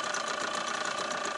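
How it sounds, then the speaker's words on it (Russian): A boat's outboard motor runs steadily just after starting, a close, loud, even engine drone with a fast rhythmic chug and no talk over it. "ну что, мотор запустил"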